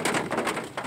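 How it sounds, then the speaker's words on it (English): Rain patters steadily and fairly close on a surface, a dense, even hiss broken by soft drop taps, with no one speaking. "the rain's kind of dying down a little bit."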